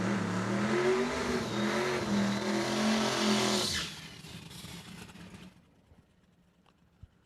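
Extreme Small Tire class drag cars launch at a Saskatchewan raceway, a loud close engine roar that holds for a few seconds, then fades into the distance and leaves near silence with a faint click.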